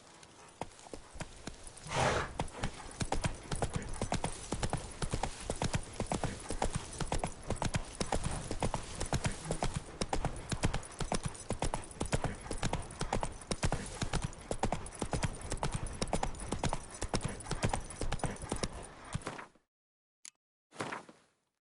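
A horse gallops in The Witcher 3, rapid, rhythmic hoofbeats pounding loud and close for most of the stretch, then stopping abruptly into silence with a couple of brief final thumps.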